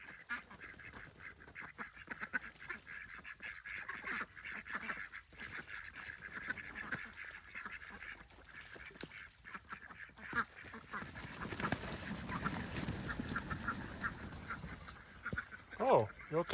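Geese honking on a farm, faint and somewhat distant, scattered calls over low background noise, with a louder burst near the end.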